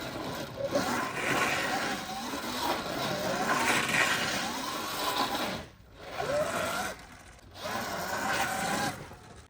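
A Sur-Ron Light Bee electric dirt bike drifts through snow, its motor whining and surging in long pulses with brief drops to near silence between runs, fairly close and moderately loud.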